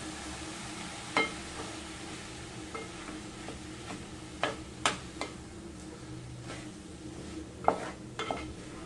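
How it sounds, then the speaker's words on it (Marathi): Peeled, chopped potatoes for a dry potato sabzi being stirred in a pan, a soft low sizzle under scattered spatula clicks and scrapes against the metal, close and fairly quiet. "आता या भाजी चांगली परतून घ्यायची आहे"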